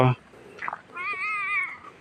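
A cat at a Buddhist temple in Lampang, Thailand, gives one clear, drawn-out meow close by. A brief thump comes first and a soft voice sounds just before it.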